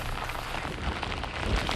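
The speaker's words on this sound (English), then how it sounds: "Hurricane Debby has already brought heavy rain with more to come" Heavy rain from Hurricane Debby in Gainesville, Florida, a steady broadband hiss of downpour on surfaces, continuous and fairly close, with no talk over it.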